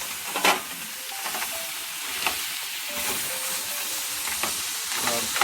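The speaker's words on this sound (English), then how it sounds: "I'm gonna stir it." Jamaican curry crab stirred in a pot, with a steady sizzling fry and scattered scraping knocks of the spoon against the pot, fairly close and continuous for a few seconds with no talking.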